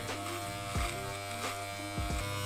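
Electric clippers buzz steadily close by while shaving a high top haircut, a constant droning hum with small shifts in pitch as the blades move through hair.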